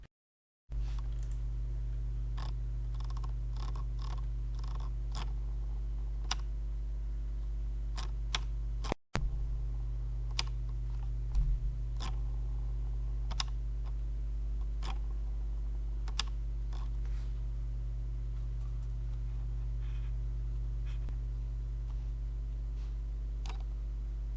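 Crisp Logitech MX Master mouse clicks tick at irregular intervals over a steady low electrical hum, close and fairly quiet, with no voices.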